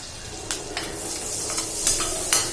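Green chillies and whole spices sizzle in melted butter in a pan, a steady close frying hiss with a few soft clinks and stirring scrapes on top, no talking.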